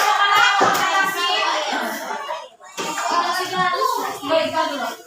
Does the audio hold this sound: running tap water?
no